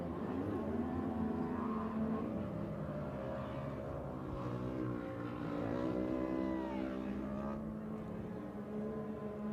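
A race car runs steadily toward the finish in a Round 4 Saturday main event. Its engine sits at a distance in a continuous drone with shifting harmonic sweeps that rise and fall over about ten seconds.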